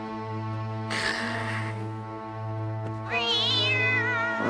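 A cartoon cat gives two drawn-out meows, the second higher and wavering, over a steady low hum in an animated scene.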